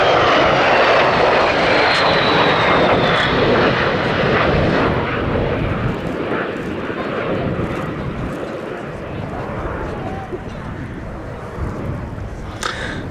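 A loud MiG-15 jet fighter with a Klimov engine roars steadily overhead at Duxford airfield, the engine noise broad and rumbling, slowly easing off over the clip.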